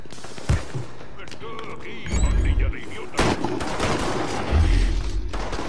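Gunfire in Mafia 3 breaks out in sharp single shots and heavy booming bursts, close and loud, with shouting voices mixed in between the blasts.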